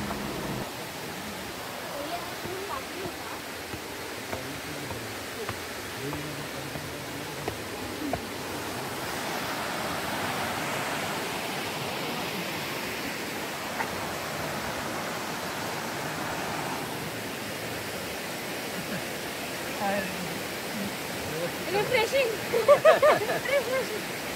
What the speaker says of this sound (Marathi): किती सुंदर नदी वाहते आणि 12ही महिने वाहते असं म्हणतात